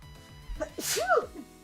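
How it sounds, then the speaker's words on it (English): A single sharp human sneeze bursts out close to the microphone, preceded by a short intake of breath, with no talking over it. "made me sneeze"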